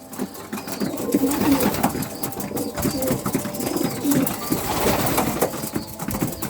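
Female pigeons, carrier pigeons in heat, coo continuously in low, throaty rolls, several birds overlapping close by, with a steady background murmur.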